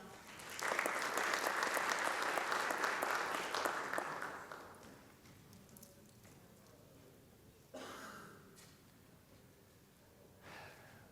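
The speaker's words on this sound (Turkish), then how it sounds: "Alkışlarınızla." A conference audience at a sustainable-mobility event claps as a speaker is introduced: a dense burst of applause that builds quickly, holds for about four seconds and fades, followed by quiet room tone with a few faint breaths and rustles.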